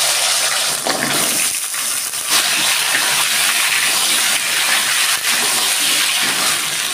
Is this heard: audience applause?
no